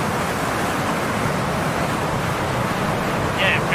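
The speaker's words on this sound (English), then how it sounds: "I couldn't hear you over the sound of the wind" Wind rushing around a hot air balloon in DCS World, a steady loud broadband roar without pause, close and constant, with faint talk under it.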